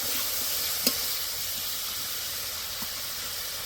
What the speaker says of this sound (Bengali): আদা বাটা, রসুন বাটা, আদা রসুন দিয়ে কিছুক্ষণ নেড়ে নেব